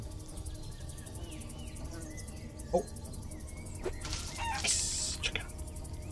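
A chicken clucks faintly in The Spirit - Inferno, a few brief calls over a low ambient game bed with insect-like chirring, followed by a short burst of sharper effect noise.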